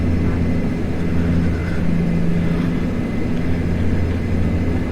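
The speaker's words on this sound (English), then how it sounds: "I need to push back on the throttle a little bit and go into minimum power" Dash 8 turboprop engines in Flight Simulator X held at reduced, minimum power: a steady low drone with a constant hum, even and unbroken throughout, with no talking over it.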